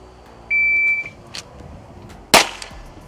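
A timer beep sounds on an indoor pistol range during a drawing drill at seven yards, followed about two seconds later by a single loud, sharp pistol shot with a short echo tail.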